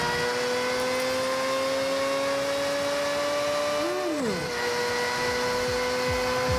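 A Mazda 787B rally-car build roars at racing speed in Forza Horizon, its engine a steady high drone that drops sharply in pitch around a gear shift or lift-off, then settles again.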